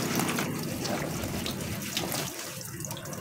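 Moringa leaves are rinsed under a running kitchen tap, a steady, close, full splash of water that continues without a break.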